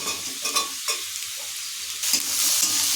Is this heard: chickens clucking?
no